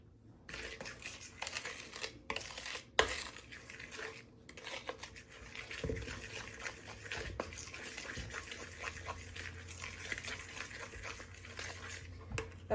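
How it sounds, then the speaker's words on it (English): A fork stirs a teaspoon of vanilla into oatmeal raisin cookie dough in a bowl, with scraping and clinking against the bowl plus a few sharp taps, fairly quiet and steady throughout. "Now I'm gonna mix that in real quick. I'm just gonna use that fork."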